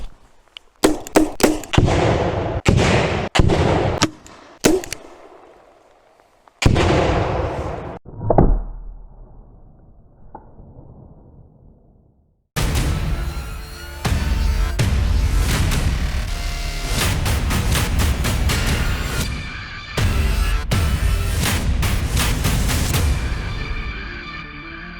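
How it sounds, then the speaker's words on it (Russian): Fort-600 Gen.2 less-lethal grenade launcher firing. Loud, sharp close-range reports come in quick bursts, followed by a longer stretch of dense, sustained blasts and mechanical clatter, with brief quiet gaps between them. "Встречайте, самый мощный травмат в мире, гранатомет Ford 600."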